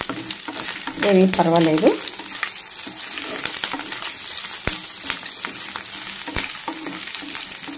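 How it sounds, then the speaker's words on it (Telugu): Onions fry in a pan with a steady close sizzle and crackle, broken by occasional sharp taps and stirring clicks; someone briefly speaks near the start over the frying. "ఇప్పుడు ఇందులో ఇలాగా ఆనియన్స్ వేసుకుందాము"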